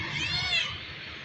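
A pet cat gives one drawn-out, high meow up close, rising and then fading over about a second.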